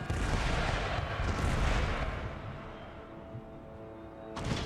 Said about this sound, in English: there go the mortars